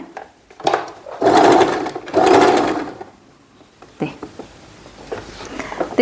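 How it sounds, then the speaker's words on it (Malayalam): A sewing machine stitching a silk long blouse, with two close, loud bursts of running stitches about a second long each, followed by softer handling noises and light clicks. "എപ്പം തയ്ച്ചു തുടങ്ങിയാലും നമ്മൾ കെട്ടിട്ട് തയ്ച്ചു തുടങ്ങണേ"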